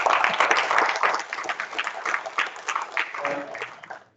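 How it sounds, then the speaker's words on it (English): An audience at a talk on alternative fuels and zero-carbon transport claps for a speaker named Richard, a short round of applause that thins out and ends within a few seconds. "Let's give Richard a round of applause."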